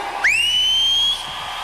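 A referee's whistle at a hockey arena: a single loud, sharp blast lasting about a second, rising quickly to a steady shrill pitch, over a quiet arena murmur.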